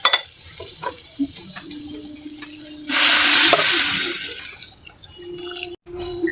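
Lukewarm water is poured into a cooking pot of beef khichuri, a loud rushing splash lasting about two seconds mid-clip, framed by scattered clinks, drips and a low simmer.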